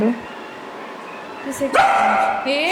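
A dog gives a few short, high whiny yips and a bark, close by, in a home setting, while a person talks over it.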